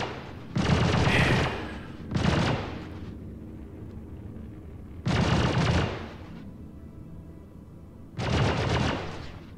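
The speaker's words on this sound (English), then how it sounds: "their lasers are hitting my ship" Enemy laser fire striking a ship in Star Citizen, heard as four loud bursts of rapid impacts, each lasting about a second, separated by lower rumbling gaps.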